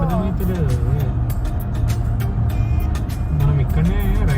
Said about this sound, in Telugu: అసలు ఫుల్ ట్రాఫిక్ ఉంది.